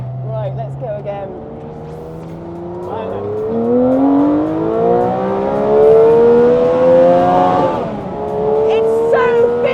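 Tuthill Porsche 911K engine revving hard on track toward 11,000 RPM, loud and close, its pitch climbing through the gears with a brief dip at a shift, with talking inside the car.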